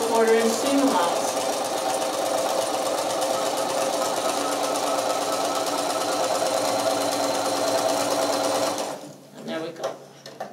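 A sewing machine runs a quarter-inch seam along lightweight fabric in one long, even, fast whirring burst, then stops near the end, leaving a few soft handling sounds.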